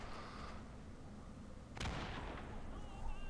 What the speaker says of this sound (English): Germans are able to flip the point, and they are contesting it with grenades